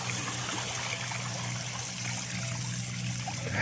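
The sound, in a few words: water of a shallow stream being ridden through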